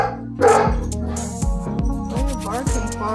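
A dog barks several times in quick succession nearby, sharp repeated woofs with a brief yelp, over some background noise.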